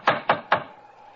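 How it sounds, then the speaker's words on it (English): Three firm, evenly spaced raps of a door knocker sound close and loud in quick succession, then fade into quiet. "Let's try the knocker."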